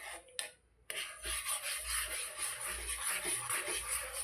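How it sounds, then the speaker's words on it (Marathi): A spoon stirs oats in a pot, making a close, continuous raspy scraping and rubbing with a few sharper knocks near the start, with no talking. "चमच्याने आता हालवून घेते म्हणजे ते पूर्ण सुटसुटीत होईल"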